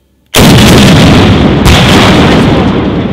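An AT4 anti-tank rocket launcher fires a live round with a single sudden, very loud blast. A long roaring rumble follows and trails off over the next few seconds.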